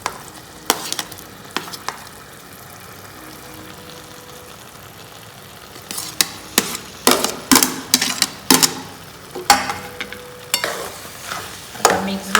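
Boiled potato being stirred into frying pav bhaji with beetroot in a pan, a soft sizzle with sharp scraping and clacking stirring strokes that come fast and loud in the second half, no talking.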